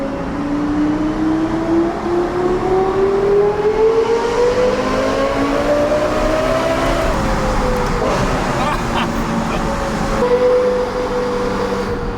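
A nearly new car with about 2000 km, prepared by a Gazoo Racing expert, revs hard through a tunnel, its engine note climbing steadily in pitch, then dropping and rising again with each gear change, loud and echoing.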